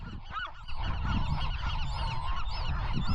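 Loud, repeated honking seagull calls overlapping one another close by on an island by the ocean, with a steady rush of wind or surf underneath.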